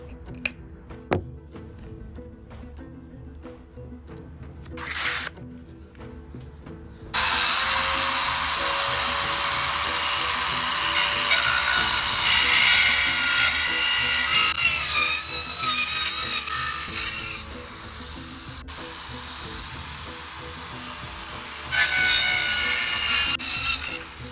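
A powered machine cuts through a wood piece while repairing a rat hole, running as a loud continuous whine and rasp for most of the stretch after quiet scattered handling knocks at the start.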